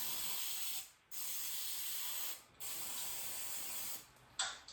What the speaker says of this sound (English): Spray that too.